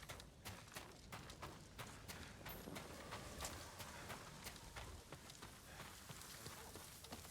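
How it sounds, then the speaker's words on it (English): Horse hooves clip-clop on the ground in the PS5 open-world action game Ghost of Tsushima, a steady run of rapid hoofbeats over a continuous ambient background. "Is that a horse? The horse of the enemy?"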